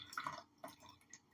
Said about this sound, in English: So I can just go ahead and add some water to it